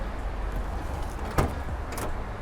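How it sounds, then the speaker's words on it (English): A car door on a 1987 Chevy Monte Carlo is opened, giving a short latch click and a second soft clunk against a faint background hum. "Opening up the door."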